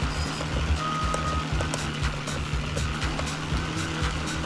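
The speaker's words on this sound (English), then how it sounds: "It's the old school sounding engine." An old-school-sounding car engine drones steadily in the PC racing game New York Race, a rough, pulsing low rumble running continuously with faint squeals and clicks on top and no speech.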